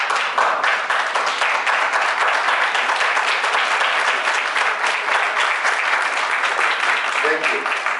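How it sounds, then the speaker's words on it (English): A standing audience at a garden awards ceremony gives sustained applause, a dense steady roar of many hands clapping throughout, loud and close with no break. "give me the opportunity to give you a round of applause."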